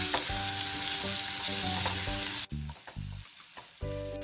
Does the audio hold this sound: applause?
no